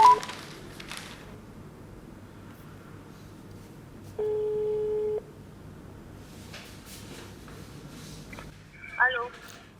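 A telephone call being placed: faint key tones, then a steady electronic ring tone lasting about a second, with soft background noise and a brief sound at the end.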